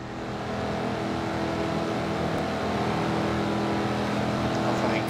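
Racing engines drone and whine steadily in the video game Forza Motorsport 7, a continuous layered hum with occasional pitch shifts, moderately loud and without talk.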